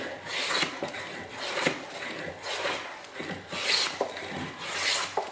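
Hand plane shaving across a board of black willow, a rhythmic series of rasping strokes roughly every second, close and fairly loud with no talking.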